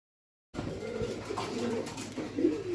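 Pair of black beauty homer pigeons of German stock, 21-ring birds, cooing softly and close by, low throaty murmurs over quiet background noise.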